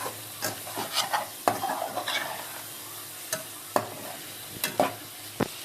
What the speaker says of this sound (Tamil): லைட்டாக எல்லா மசாலா ஒன்று சேராமல் நல்லா கிண்டி விட்டுக்கலாம்.